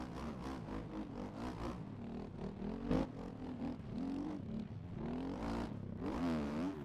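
Dirt bike engine held a little on the throttle in the MX Bikes game on a tough enduro course, a steady revving drone with rising and falling pitch sweeps, loud and continuous with no talk.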